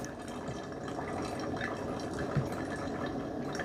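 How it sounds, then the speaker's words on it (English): Mr. Coffee Perfect Brew coffee maker pumping water through its heating element, a steady faint gurgling, trickling hum with soft drips, continuous throughout. "a pump that's pumping the water through a heating element"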